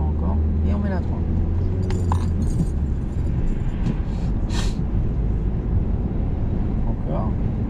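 A car accelerating during a driving lesson, low engine rumble building beneath steady cabin noise, with some brief rattles and clicks and people talking quietly inside the car.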